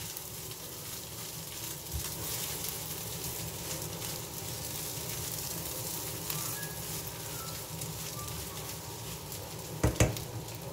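Raw egg poured into a hot pan of egg fried rice and stirred, giving a steady low sizzle with soft stirring scrapes and a couple of brief clatters near the end.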